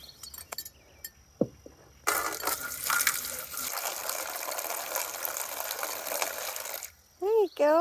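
Water pours steadily from a hose or container into a dish for ducks in a garden, a rushing, splashing stream lasting about five seconds, with a few quiet sounds before it and a brief chirp after.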